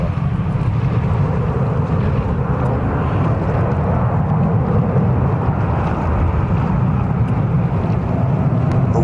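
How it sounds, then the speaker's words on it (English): Airbus A321-231 jet at JFK airport, a steady, loud broadband roar of engines that holds evenly throughout, with no voices. "This is an aircraft type Airbus A321-231, and this aircraft is also 6 years old."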